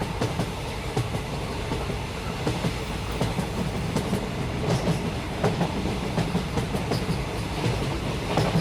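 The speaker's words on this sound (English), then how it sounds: "See how long this train is." A long train rolls steadily past nearby, a continuous rumble with rhythmic clickety-clack from the wheels throughout.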